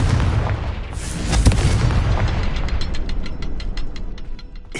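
A Confringo spell in Hogwarts Legacy lands as a loud booming blast with a rolling rumble, followed by a string of sharp crackling pops and debris clatters that trail off over several seconds.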